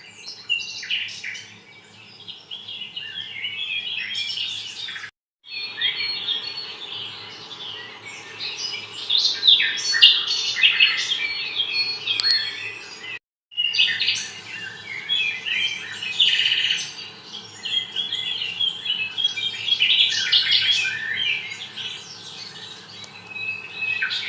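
Birds chirp and call at a large American zoo, with a busy overlapping chorus of high tweets and trills that runs continuously for over twenty seconds, broken only by two brief silent gaps.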